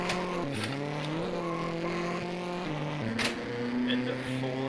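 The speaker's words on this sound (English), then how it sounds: "Let's ride on board car number 2 and look at this circuit." Onboard a rallycross race car lapping a circuit, the engine revving and shifting through rising and dropping tones with brief bursts of tire and gravel noise, steady and close throughout.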